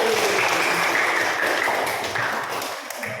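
A classroom of students applauds in a rhythmic two-beat clapping pattern, a dense, steady wash of many hands that fades slightly toward the end.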